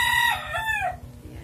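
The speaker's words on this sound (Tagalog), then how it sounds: "mayroon boses ng sisiyo, mayroon boses ng tulaok" Rooster crowing at a home with backyard fowl, one short crow close by with a rising and falling call, over a faint steady low hum.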